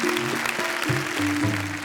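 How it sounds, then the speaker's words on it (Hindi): Audience applause at an evening Hindi poetry gathering, a steady wash of clapping from a crowd under a faint tonal background, lasting the whole moment. "तो जरा इनके लिए तालियां बजाइए।"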